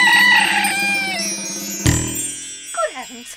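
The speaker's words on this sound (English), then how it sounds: "It's the black cockerel, George." A black cockerel crows loudly and close, a long drawn-out call that slides and breaks, followed by a sharp hit and a shorter rising squawk near the end.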